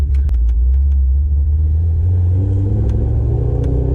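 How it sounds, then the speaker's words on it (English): A Chevrolet Corvette with a 6.2 LS3 V8 pulling away in first gear, a loud steady low engine rumble close by that rises slightly in pitch, with a few faint clicks at the start. "Alright, this is a Corvette."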